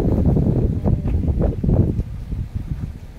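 Wind blows over an open field outdoors, buffeting the microphone in low, gusty rumbles that rise and ease over a few seconds.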